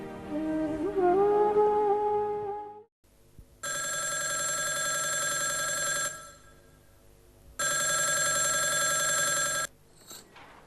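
A telephone bell rings in two long, loud bursts separated by a short pause, after a brief stretch of tonal music at the start.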